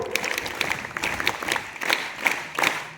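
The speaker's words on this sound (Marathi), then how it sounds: "जोरदार टाळ्या झाल्या पाहिजे त्याच्यासाठी स्काउट ब्लॅक ग्रुप" A school audience gives scattered, moderate applause for a scout group. The claps come as distinct bursts and soft rattles across the few seconds rather than a dense roar.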